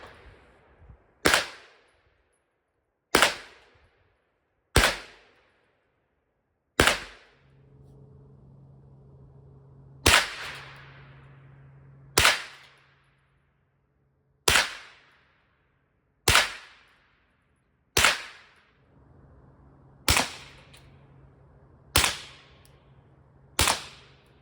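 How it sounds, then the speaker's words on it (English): Twelve sharp, loud shots ring out one at a time from a pistol-caliber carbine fitted with an SIL9-R suppressor, spaced a second or two apart, each with a short decaying tail, and a low hum sits between some shots. "I'll just record shoot with can off, can with supersonics and can with subsonics."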